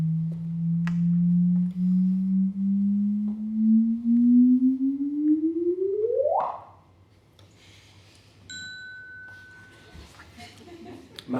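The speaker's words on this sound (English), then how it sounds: "what you hear is an increase in frequency, which is the two neutron stars getting closer and closer and spiraling faster and faster and faster" NASA sonification of a neutron star merger: a steady tone sweeps slowly upward over several seconds, speeds into a sharp rising chirp, then stops. Soft bell-like dings and faint clinks follow in near silence.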